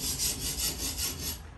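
Khukuri blade rubbed back and forth on a Tsprof K03 abrasive sharpening stone, a steady close rasping scrape with an even rhythmic swell over a second and a half.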